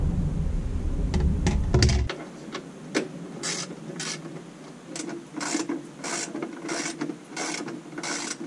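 A ratchet loosening bolts on a 2020 Harley-Davidson Low Rider S motorcycle during a fender strut install, with quick bursts of close ratcheting clicks after a short stretch of louder mechanical noise.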